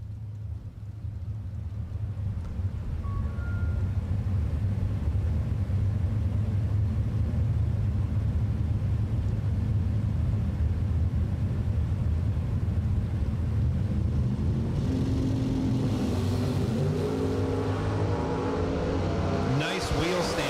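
Drag racing launch of a Ford Mustang and a Chevrolet Camaro at a bracket race, the Camaro pulling a wheel stand: a steady loud engine roar builds into harsher rising revs and tire noise near the end, with commentary running over it.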